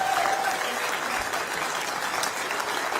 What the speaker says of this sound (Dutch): Dames en heren, mag een applaus voor Robert Duif.